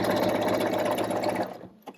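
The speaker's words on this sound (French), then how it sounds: "En un passage, vous passez ça à la surjeteuse." A serger overlocker runs fast, sewing elastic onto pyjama fabric with a steady, dense mechanical whir that stops abruptly near the end, followed by a single small clack, close and alone.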